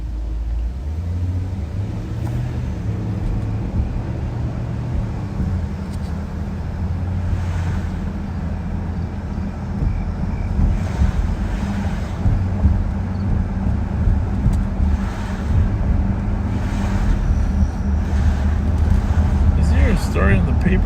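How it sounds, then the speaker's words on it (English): Interior of a sheriff's patrol car while driving, with a steady low road and engine rumble and some wind noise throughout, and voices talking over it. "It's great to have Rev back in the squad car after his busy month or so."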